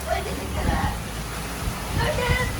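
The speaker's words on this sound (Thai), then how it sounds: "จากลมธรรมดาคราวนี้คือฝนแรงมาก" Heavy typhoon rain pounds down outside a home in Japan, a dense, steady hissing roar that fills the whole moment, with faint voice-like murmurs underneath.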